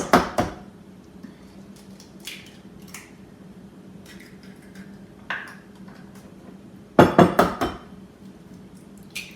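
Two eggs cracked against a bowl of cookie batter in a home kitchen: sharp clicking taps at the start and a tight cluster of knocks later, with quiet gaps and faint handling noise between.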